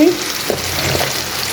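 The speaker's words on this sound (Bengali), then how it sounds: "শুধু হালকা আগে ভেজে নেব, শুকনো শুকনো করে ভাজা ভাজা করবো" Small potatoes and eggplant fry dry in a pan without water, a loud close sizzle with a few stirring scrapes throughout.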